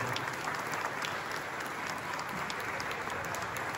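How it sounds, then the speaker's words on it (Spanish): Audience applause following a piece at a farewell concert in an art museum, steady even clapping from a crowd heard at a distance and fairly quiet, with no break in it. "Qué bonito se escucha con sus aplausos."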